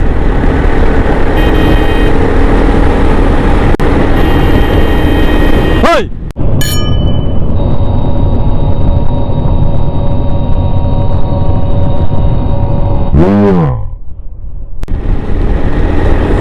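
Steady vehicle rumble and traffic noise during a bus ride in Tamil Nadu, with a broadband engine drone throughout, a short dip around six seconds and a passing vehicle whoosh near thirteen seconds.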